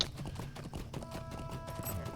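Horse hooves clip-clop in the video game Lord of the Rings Online as a hobbit's pony trots along: a steady, even rhythm of light hoof beats over soft game ambience, with no talking.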